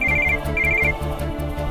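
A telephone rings in a home with a repeating electronic ringtone, short bursts of bright beeping over a throbbing musical backing, loud and close, with no voices.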